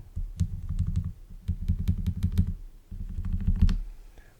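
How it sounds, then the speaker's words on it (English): Bare computer keyboard with its keycaps removed, tapped in quick uneven bursts of soft clicks and low thuds, close and dry, with brief pauses between runs. "this is a keyboard without its keys, obviously. It already sounds kind of nice."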